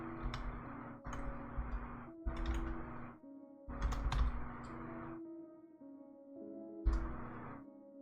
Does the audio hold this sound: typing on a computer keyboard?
yes